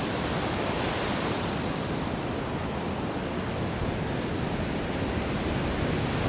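Big ocean waves whipped up by Typhoon Kristine roar in a steady, dense wash of surf, loud and continuous with no breaks or voices.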